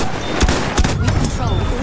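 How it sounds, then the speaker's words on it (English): Enemy machine gun fire in a Battlefield 1 match, a few sharp reports in under two seconds that sit beneath voice callouts and battle noise. "Enemy machine gun sighted."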